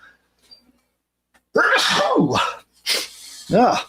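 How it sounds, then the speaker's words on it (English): After a quiet stretch, a person sneezes loudly and close by, followed by a second burst of sound and a short voiced exclamation. "Nice sneeze there to edit out."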